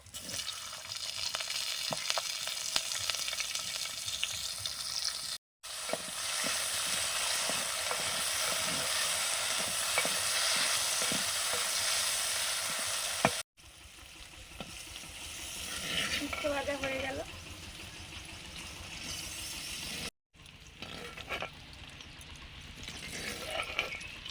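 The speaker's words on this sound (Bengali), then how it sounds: "সবশেষে উচ্ছেটা ভেজে নিচ্ছি" Bitter gourd fries in a pan with a continuous, close sizzle and hiss, broken by a few abrupt cuts and with occasional soft stirring clatter.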